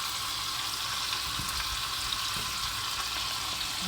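Onions and mixed vegetables fry steadily in a pan for vegetable rice, giving a continuous close sizzle with faint scraping stirs, no voices.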